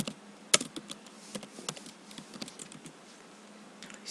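Typing on a computer keyboard while entering code, a steady run of quick, close, crisp key clicks with uneven rhythm and no talking.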